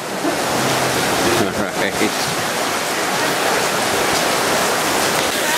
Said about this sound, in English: it is coming down pretty damn hard, and the wind is, look at that. The wind is just blowing like there's no tomorrow.